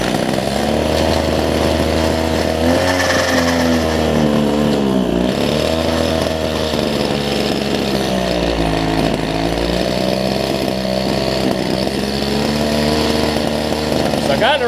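A Homelite two-stroke hedge trimmer engine, fitted with new fuel lines and primer bulb and with its carburetor being tuned, runs loud and close at a buzzing idle with an uneven, wavering pitch throughout.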